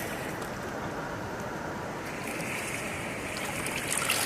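The Narmada river in Maharashtra rushes past during rain, a dense, continuous roar of fast-flowing water with wind buffeting the microphone, steady and loud throughout.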